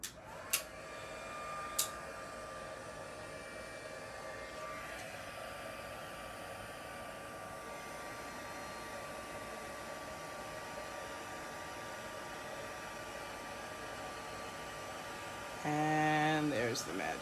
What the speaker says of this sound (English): Okay, so now I've got my heat tool.